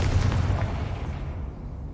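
Confringo fire spell blast in Hogwarts Legacy, a loud booming burst right at the start that rolls off into a fading low rumble over two seconds, with no talking.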